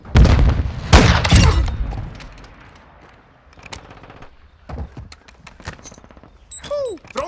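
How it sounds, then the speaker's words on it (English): A stun grenade detonates in Call of Duty Modern Warfare 2 hardcore multiplayer: loud booming bursts and rapid gunfire near the start, then quieter scattered shots and clanks, ending with sharp sweeping electronic whines. "Stun grenade out."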